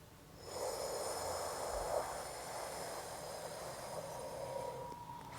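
A long, steady in-breath during a relaxation breathing exercise, close and soft, with a hissing airy quality lasting several seconds before trailing off.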